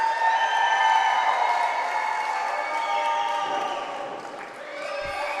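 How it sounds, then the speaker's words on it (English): Wrestling crowd cheering and applauding steadily throughout an indoor match entrance, a dense, loud roar of voices and clapping that swells slightly and dips near the end, with a brief thud at the close. "the fans, this is the opening they've been wanting to see as they cheer for her"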